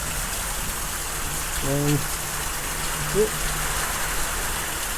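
Small hail and rain come down steadily in a passing thunderstorm, a dense even hiss with no distinct impacts, while a voice briefly speaks over it.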